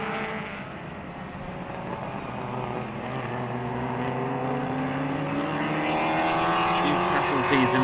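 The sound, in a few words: classic race cars at Jarama circuit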